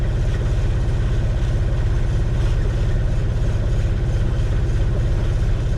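A boat's low, steady engine drone runs without a break, a constant mechanical hum with no voices over it.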